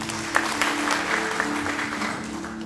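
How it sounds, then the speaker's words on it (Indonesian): Steady applause from a congregation at a church worship service filling the whole stretch, with a sustained musical tone underneath. "Berikan tepuk tangan untuk Tuhan."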